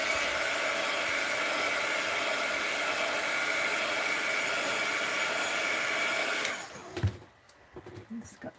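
A heat tool blows hot air over a mixed-media art journal page, a loud steady roaring hiss that runs for about six seconds and then cuts off, leaving faint handling sounds.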